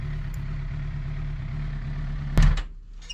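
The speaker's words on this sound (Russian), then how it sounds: "я приехал к себе домой, паркую мотоцикл" A parked motorcycle idles with a steady low, throbbing engine note for over two seconds before a sharp knock and the engine cutting off, leaving near silence.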